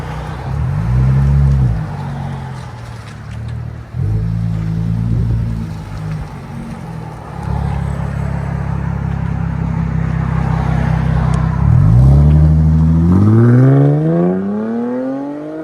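A supercharged 3.0L V6 in a 2017-2020 Jaguar F-Pace revs in several loud bursts, rising and falling, then a final sweeping climb to higher revs, with the exhaust note close and alone.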